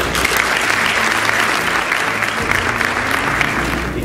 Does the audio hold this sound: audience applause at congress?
yes